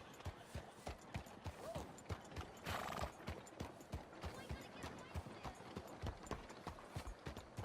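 Horse hooves clip-clop at a steady trot in Red Dead Redemption 2, an even, close rhythm of hoofbeats throughout, with a brief noisy burst and faint voices in the background.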